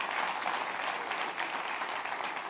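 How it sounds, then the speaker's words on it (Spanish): Church congregation applauding during a Spanish-language sermon, a dense even roar of many hands clapping together, continuous and fairly steady from start to finish with no talk over it. "Denle un aplauso al rey, pues."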